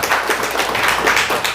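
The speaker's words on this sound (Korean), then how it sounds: "환영의 의미로 우리 박수 한번 부탁드리도록 하겠습니다" A church congregation at a New Year's Eve service claps together in welcome, a brief, fairly close burst of steady applause from a modest crowd.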